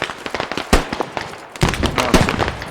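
Gunfire in the military shooter game Squad: a run of sharp, cracking shots and pops, one loud blast near the middle, then a denser, louder stretch of overlapping fire. Nothing else is heard alongside it.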